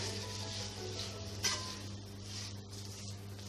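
Carrot pickle is mixed and cooking in a pan over a flame, a quiet steady sizzle with a low hum beneath and a single brief utensil scrape partway through, no voices.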